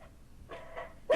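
During an online town council meeting, a dog barks a few times, faint at first, then a louder, sharper bark at the end, picked up through a participant's open microphone.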